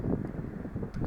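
Wind buffets the microphone during wing foiling on a lake, a low rumbling roar that is steady and moderately loud throughout the short stretch.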